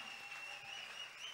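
A crowd at a religious praise and prayer gathering applauding for the glory of God, a steady, dense wash of clapping heard throughout the short moment.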